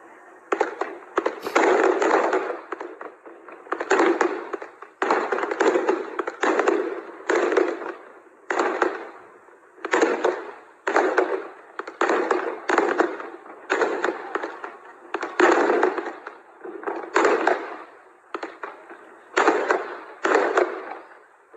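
Fireworks fired at a demolition excavator in China go off in rapid loud bursts of crackling bangs, repeated in clusters for over twenty seconds with short gaps between volleys, and no talk.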